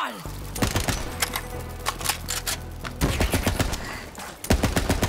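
Rapid bursts of automatic weapon fire in the shooter game Borderlands 3, loud close volleys of quick repeated shots separated by short pauses, with game effects between them.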